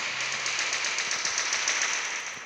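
Rapid gunfire from a new weapon in the mech combat game War Robots, a dense steady burst of shots running through the whole stretch, loud and close with no talking over it.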